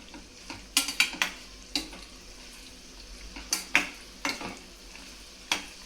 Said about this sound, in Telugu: ఇలాగా కొంచెం అన్నీ ఇలాగా వేయించుకోవాలి